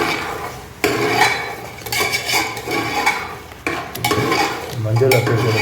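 Drumstick greens being stirred with salt in a metal pot: a spoon scrapes and clanks against the pot in repeated loud strokes, with a soft sizzle underneath.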